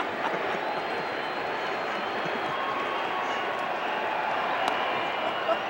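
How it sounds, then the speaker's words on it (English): A raucous crowd of over 55,000 roars steadily at a 1987 World Series baseball game between the St. Louis Cardinals and Minnesota Twins. The dense, distant wash of cheering never breaks, and a voice comments over it. "A lot of ways to describe this crowd, raucous and bedlam."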